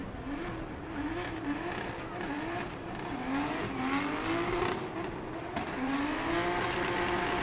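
Drift cars at Irwindale Speedway, engines droning and revving as they slide through the banked turns, with a wavering engine tone under a steady, crowd-filled roar heard from a distance.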